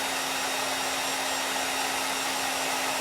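A hair dryer blows steadily and loudly throughout, a constant broadband whoosh with a steady motor hum underneath, no voices.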